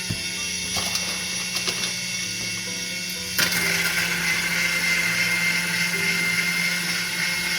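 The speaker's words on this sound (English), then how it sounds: "because I'm just grinding few beans" Starseeker Edge electric coffee grinder grinding beans at a fine setting, a steady mechanical whir with a rattling, ratcheting texture that grows louder and denser partway through.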